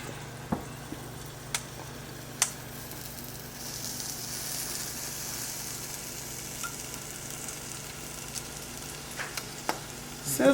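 Waffle batter hisses faintly and evenly inside a closed, sprayed waffle iron, with scattered small ticks and pops over the steady sizzle.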